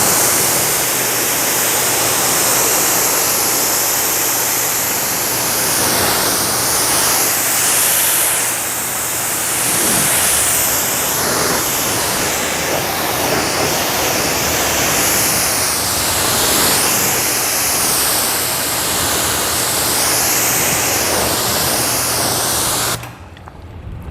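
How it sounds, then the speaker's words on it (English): Hose spraying water over a car after a ceramic protection coating, a loud continuous hissing splash with shifting spray texture that stops abruptly at the end, close and alone. "I'm gonna go ahead and rinse it and watch how the water reacts now after I sprayed it on there."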